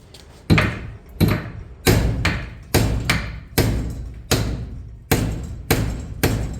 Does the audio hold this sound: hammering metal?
yes